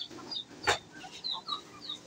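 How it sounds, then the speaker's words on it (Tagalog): Chickens cluck in short bursts, with one louder squawk-like call near the start, fairly close by over a faint background. "Sa'yo ba yung manok na yun, Abo?"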